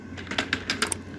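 Quick keystrokes on a computer keyboard, about half a dozen light clicks in an uneven run, close and clear with no talk.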